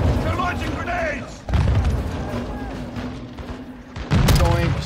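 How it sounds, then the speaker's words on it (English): Grenade launches and explosions during a Call of Duty: Modern Warfare 2 campaign firefight, heavy booms and gunfire bursts rolling over sustained battle noise, with a second loud blast near the end and voices shouting underneath. "They're launching grenades!"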